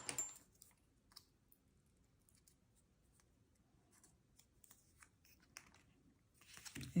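Scissors snip quietly through paper card for a pop-up card in several short, separate cuts over near silence, with a louder rustle of handling at the end.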